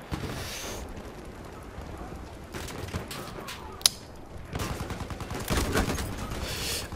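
Bursts of gunfire from the video game Battlefield 1 crackle through a dense battlefield mix, with a sharp single shot midway and heavier rapid fire building toward the end, loud and continuous.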